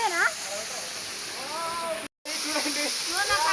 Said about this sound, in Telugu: ఇది చూసేయండి మన వాటర్ ఫాల్స్.